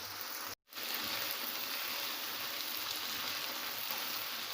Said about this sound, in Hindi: इसको 4 से 5 मिनट तक हम भून लेते हैं।